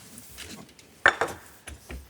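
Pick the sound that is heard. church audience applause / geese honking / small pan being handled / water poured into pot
small pan being handled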